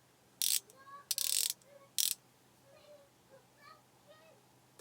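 A 1/4 inch drive King Chrome ratchet in a shed gives three loud, close bursts of rapid clicking, followed by fainter, softer sounds.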